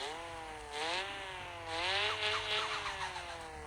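A Volkswagen Golf engine in the mobile game Car Parking revs up and down in repeated rising and falling surges, a steady buzzy drone with no talk over it.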